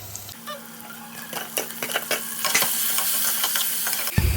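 Faint sizzling of tomatoes sautéing in a pan for prawn gravy, with soft stirring and scraping sounds, growing slightly louder over a few seconds.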